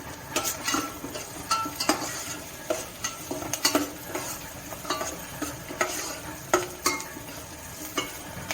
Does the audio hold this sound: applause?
no